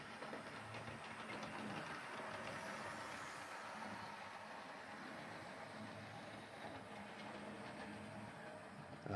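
A Hornby model train set runs steadily along its track, giving a continuous close rolling rumble with a light mechanical whir that holds evenly throughout, with no voices over it.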